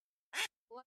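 A duck quack sound effect plays on a podcast: two short, nasal quacks about a third of a second apart, clear against silence.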